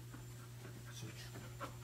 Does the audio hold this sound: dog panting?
yes